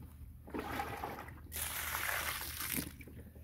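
Residual mop water mixed with Mr. Clean soap is poured out onto ants outdoors, a close, steady splashing gush that swells, briefly dips, then surges again before tapering off, with no talking.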